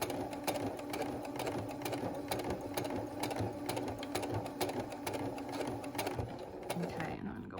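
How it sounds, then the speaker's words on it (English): A sewing machine stitches a fabric face mask with elastic, running in a steady, rapid, close mechanical rhythm that slows and stops at the end. "I'm going to do a couple stitches back and forth again."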